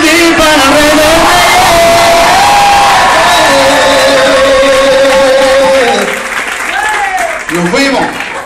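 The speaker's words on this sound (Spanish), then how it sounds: "Solo tienes que gritar y aplaudir para rebelar." A worship concert crowd shouts, cheers and claps in a loud continuous wave over singing, thinning out near the end as a voice carries on.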